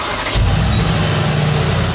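A Mercedes-AMG G63 engine fires up with a sudden burst a moment in, then settles into a loud, steady low rumble at close range.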